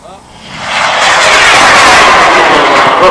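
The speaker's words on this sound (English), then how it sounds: "Liftoff of Charger rocket." Charger rocket lifting off at a launch, a loud, steadily building roar of rocket exhaust that swells within half a second and holds strong and continuous to the end.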